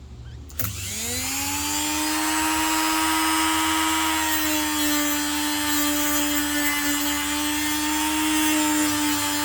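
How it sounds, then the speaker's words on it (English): A Dremel rotary tool fitted with a light emery brush polishes the filed metal edges of a standard 54 mm Breville portafilter, starting with a short click and then holding a steady, loud, high whine for several seconds, with no talking. "I'm just going to polish the filing that I've done to clean up all the sharp swath and edges. So I've got a Dremel."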